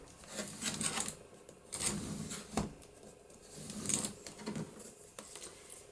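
Scissors snip paper along the bottom edge of a crafted envelope, several short crisp cuts at close range with quiet rustling between them.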